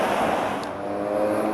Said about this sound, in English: Apologies for any noise that comes into my video as I'm filming next to a busy highway.